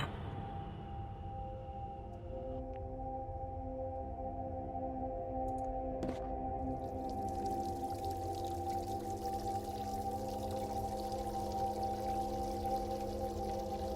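Water filling a container inside the adventure game The Dream Machine, a steady pouring stream that runs continuously over a low background hum, with no talk.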